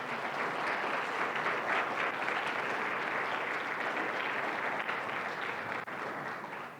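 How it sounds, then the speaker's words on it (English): Sustained audience applause fills a closing plenary session at a leadership conference, a dense, even wash of many hands clapping at steady volume throughout, with no voices over it. "Give another round of applause"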